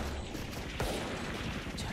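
Gunfire in the video game Valorant during a pro esports match, a dense run of shots with one sharper crack partway through, under excited commentary.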